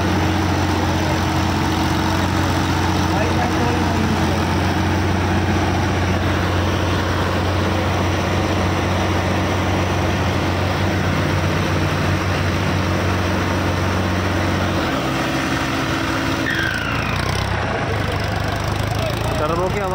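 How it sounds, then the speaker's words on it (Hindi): A fully modified, turbocharged tractor engine at a tractor pulling contest runs loud and steady at close range, a deep rumble with a sustained tone that shifts near the end. "टर्बो की आवाज़ सुनो भाइयों,"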